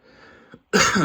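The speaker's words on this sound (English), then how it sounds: "I have a little bit of a cough" A single short, sharp cough bursts out loud and close after a moment of quiet room tone and a faint breath, with no talking around it.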